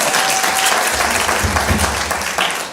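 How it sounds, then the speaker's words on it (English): Dense, loud applause from a large crowd at a business conference in Gauteng fills the whole stretch, a continuous wash of clapping with some low murmuring underneath. "Give a round of applause, please."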